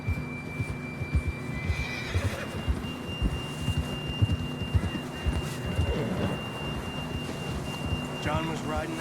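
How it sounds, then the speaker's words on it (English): A horse whinnies amid a busy Red Dead Redemption 2 game soundscape, with a steady low rumble, faint rain-like texture and muffled voices in the background. "John was riding that horse when we left Blackwater"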